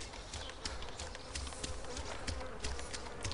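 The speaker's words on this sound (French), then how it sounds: "Il y a encore des mouches." Flies buzzing in the video game DayZ, a steady close insect drone with faint rhythmic footstep-like taps underneath, at low volume and without talk.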